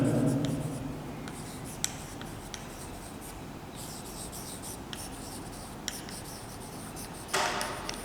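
A teacher writing notes during a chemistry class, with a steady scratchy stroke-by-stroke rubbing of the writing tool, close and continuous, broken by a few sharper taps.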